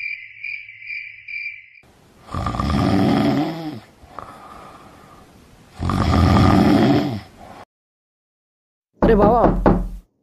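Knocking on a door at midnight comes as a quick burst of raps near the end, after chirping crickets and loud, heavy snoring-like breaths in a quiet room.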